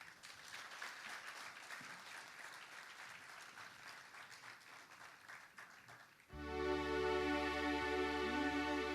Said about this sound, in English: let us welcome on stage the students from NCS with a round of applause